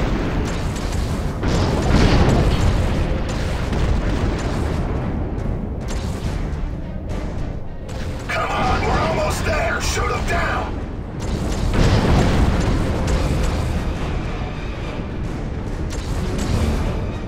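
Dense, rumbling game combat from Gears of War 3 as torpedoes strike, with booming blasts and mechanical clatter running throughout and swelling at several points, while a voice talks over parts of the action.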